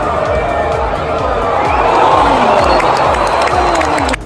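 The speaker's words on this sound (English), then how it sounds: "The chants and cheers floating through the stadium." A soccer stadium crowd at a Fiorentina versus Benfica international match, tied late in the game, chants and cheers loudly and continuously, with rhythmic voices and a dense roar that cuts off abruptly at the end.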